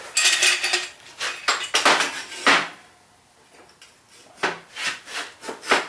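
A large metal clamp is handled and positioned on a wheel for a mobile leg vice build, giving clanks, scrapes and metallic rattles in bursts, with a quiet pause in the middle.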